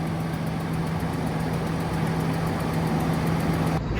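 A tractor fitted with a 900 kg front weight block idles nearby with a steady low engine hum and a constant drone, cutting out abruptly at the very end.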